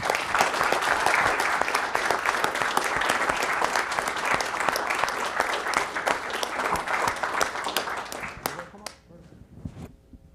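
Sustained, dense applause fills a room at a village board meeting, steady for about eight seconds before tapering to a few scattered claps and faint voices.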